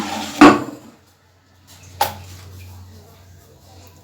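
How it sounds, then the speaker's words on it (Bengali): A lid set over a bowl of pizza dough: two short knocks, a louder one at the start and a second a moment later, close by in a quiet kitchen. "আমি একটা ঢাকনা দিয়ে ঢেকে 10 মিনিটের জন্য রেস্টে দিচ্ছি।"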